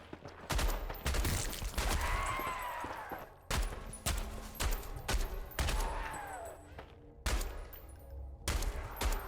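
Gunfire from the Beneath demo video game: loud, rapid bursts of shots with sharp repeated cracks, broken by brief pauses, dense and close throughout.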